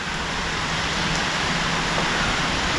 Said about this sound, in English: It's raining outside again.